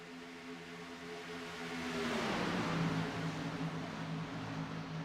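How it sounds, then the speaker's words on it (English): Sim racing stock cars in an Xfinity Series race at Atlanta drone steadily, then the engine tone drops in pitch as drivers lift off the throttle entering a corner, the drone continuing under a broad rush. "you can hear the cars kind of lifting going into the corner here, just trying to keep the back end underneath"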